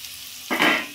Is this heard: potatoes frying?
yes